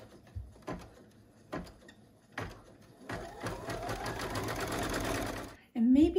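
An embroidery machine sews a tack-down stitch securing felt to stabilizer, first a few separate mechanical clunks, then a steady rapid stitching whir that stops abruptly before a short rising whine.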